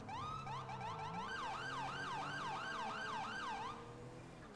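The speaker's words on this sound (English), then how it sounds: "I am going to use my lights and sirens to get through red lights." A police car siren in GTA V's LSPDFR mod wails in a fast rising and falling yelp, loud and close, running continuously for a few seconds before cutting off, with no talk over it.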